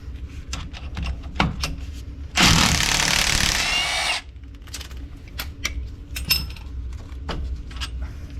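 A power tool runs loosening a car suspension ball-joint bolt with a 16 mm socket, one loud burst of about two seconds between scattered metallic clinks and taps from tools and parts.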